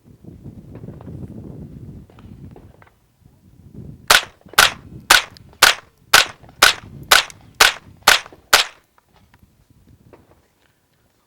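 A Chiappa M1-22 rifle fires ten sharp, evenly spaced shots about half a second apart, loud and close, after a stretch of quiet handling noise.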